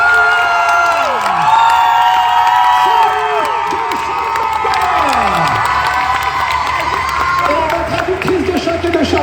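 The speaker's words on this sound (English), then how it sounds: "accueillez-les comme il se doit avec un tonnerre d'applaudissements, s'il vous plaît." A large crowd at a Paris Manga 2024 convention panel cheers loudly and steadily, with many high screams and whoops sweeping over a dense roar that carries through the whole stretch.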